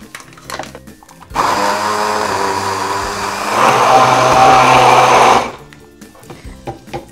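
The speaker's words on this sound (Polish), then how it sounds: "I blendujemy." A blender whirs through buckwheat with almonds and cinnamon, a loud steady motor drone starting abruptly, rising in pitch and intensity midway, then cutting off after about four seconds.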